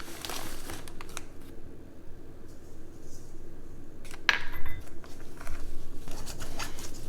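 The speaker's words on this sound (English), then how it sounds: "You use 2/3 cup of sugar, mix that with the radish." Radish pieces being mixed by hand with sugar in a bowl for Korean radish kimchi, giving soft crinkly, wet patter and rustling with a sharper clatter midway, fairly close and alone.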